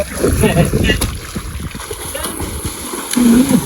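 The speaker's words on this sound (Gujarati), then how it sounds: "મિત્રો આવી ગયા છે દરિયામાં નાવા" Sea water splashes and churns close by as people bathe, amid gusty wind on the microphone, with voices calling out in the background.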